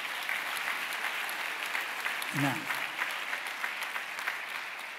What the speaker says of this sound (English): If this helped you at all, clap your hands.